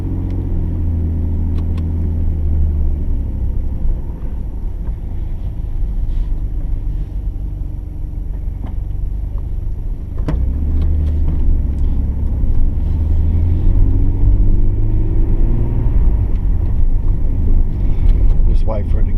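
A 1990 Nissan Skyline R32 GTR twin turbo on a test drive, its engine giving a steady low rumble throughout with road and wind noise, heard from inside the car.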